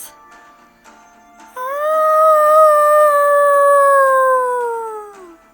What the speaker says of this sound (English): Together, the sacred watch howl at the Mackeys